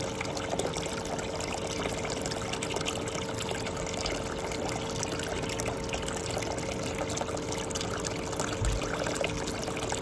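Water pours and trickles steadily out of a gold pan during gold panning, a continuous close wash of liquid with no pauses.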